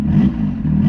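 A Renault Clio engine with an ignition fault idles after a spark plug change, a close, steady low rumble with a slight uneven throb over one second.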